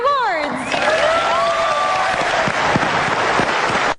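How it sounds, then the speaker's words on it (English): Applause and cheering at the opening of the 83rd Academy Awards, a crowd clapping steadily throughout, with voices calling out over it at the start and sharp claps standing out in the later part. "Cheap applause."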